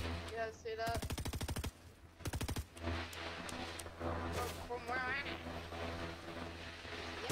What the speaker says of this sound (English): Someone sniping us.